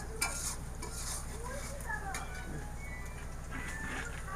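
Onions frying in a pan with bay leaves and salt for a taro-leaf and fish curry, a steady close sizzle with occasional stirring scrapes throughout.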